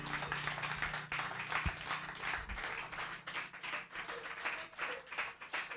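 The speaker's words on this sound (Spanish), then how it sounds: "Dele por favor un aplauso a Cristo." A church congregation applauds during a Spanish-language service, moderately loud, uneven clapping from many hands that continues throughout, with a brief low thump near the start.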